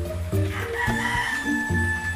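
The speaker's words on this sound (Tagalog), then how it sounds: "Pasensya na po sa mga manok namin." Chickens cluck and a rooster crows nearby, overlapping calls rising and falling with a steady low background hum.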